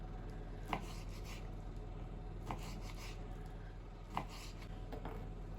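Knife slicing lamb fat thinly on a cutting board for a lamb heart and vegetable dish, three separate quiet chops spaced over a steady low background hum.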